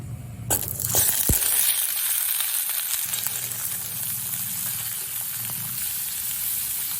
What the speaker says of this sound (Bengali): এবার আমড়াগুলো আমি জল ঝরিয়ে নিয়েছি, সেই আমড়াগুলোর মধ্যে দিয়ে দেবো।